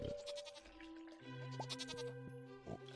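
Goats on a farm in the video game Stardew Valley bleat in a few wavering calls over quiet game background sound, and no one speaks.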